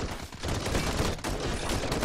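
Rapid gunfire rattles from the Call to Arms war game, dense overlapping bursts of automatic shots that stay loud and continuous with only a brief lull near the middle.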